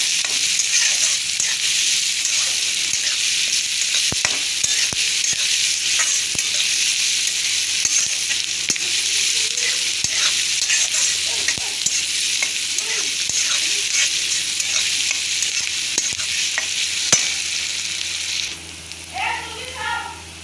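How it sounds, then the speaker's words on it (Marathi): Onion fries in a pan with a loud, steady broadband sizzle and the occasional stir or scrape. The sizzle continues unbroken for about eighteen seconds, then drops away and soft clatter follows. "कांदा भाजून घेऊया चांगला थोडासा भाजून घ्यायचा"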